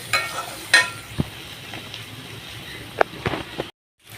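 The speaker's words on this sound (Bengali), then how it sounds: "তো ওই মাছটা আজকে রান্না করে নিচ্ছি।" Fish cooking in a pan in a home kitchen, giving a quiet, steady frying hiss broken by a few sharp clicks and scrapes of stirring.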